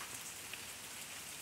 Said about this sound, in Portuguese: Olha a chuvinha, amigos.